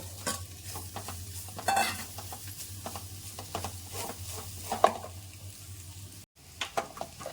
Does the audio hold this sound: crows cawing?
no